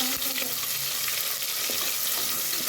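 Chopped onion and green chillies frying in a hot pan, giving a steady, close hiss of sizzling oil with faint scraping under it and no talk.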